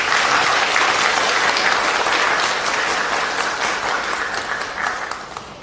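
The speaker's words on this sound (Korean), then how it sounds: "힘찬 박수로 환영해 주시기 바랍니다." Loud, sustained audience applause at the launch ceremony of a Korean political party's preparatory committee, dense clapping filling the hall for several seconds and tapering slightly toward the end, with no speech over it.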